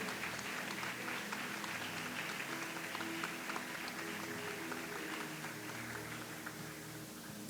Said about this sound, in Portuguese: Aplauda Jesus, aplaude